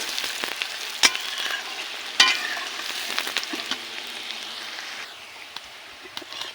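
Chopped onions fry in hot oil for a goat meat curry, giving a steady bright sizzle and crackle with a few sharp spatters early on. The sizzle eases slightly toward the end, with no voices.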